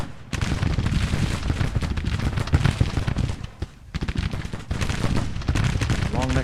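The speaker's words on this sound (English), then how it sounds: "Oh, now we're firing." Dense rifle volleys crackle from troops in Grand Tactician: The Civil War, with rapid overlapping shots and distant booms and a brief lull partway through. Someone talks over the gunfire.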